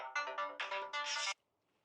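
A mobile phone ringtone plays a bright, tonal melody in several quick bursts for a little over a second, then cuts off, leaving near silence.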